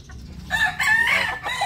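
A young rooster (stag) gives a short, strained crow nearby, a single rough call lasting barely over a second against a quiet farmyard background.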